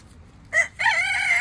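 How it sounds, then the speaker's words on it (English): A rooster crows nearby, a short loud burst followed by a longer, drawn-out cock-a-doodle call rising clearly over quiet background hum. "Chickens around here. Roosters."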